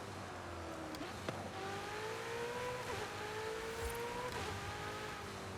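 A Ferrari J50 sports car engine in Forza Horizon 5 revs up through several gear changes, its pitch climbing and dropping in steady sweeps under a constant roar.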